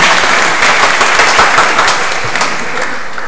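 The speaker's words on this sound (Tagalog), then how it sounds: "Palakpakan po natin ang Diyos." A congregation claps during Mass for the feast of Saint Anthony of Padua, producing loud, continuous applause that fills the church and holds steady throughout.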